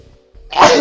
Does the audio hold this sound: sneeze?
yes